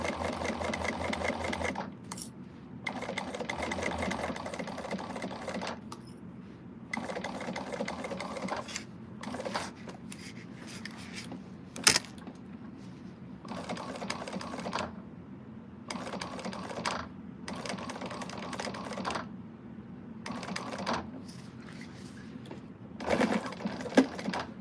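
A sewing machine stitches a 3/8 seam along the bottom of a bag in bursts of rapid mechanical whirring, stopping and starting repeatedly, with quiet pauses between runs.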